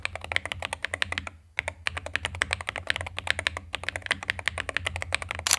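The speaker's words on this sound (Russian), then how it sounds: "Звучит эта клавиатура в совокупности всех характеристик вот так." Rapid, steady typing on an Aula HERO84 HE magnetic switch keyboard with thin keycaps, close and crisp, with dense clacks and two short pauses.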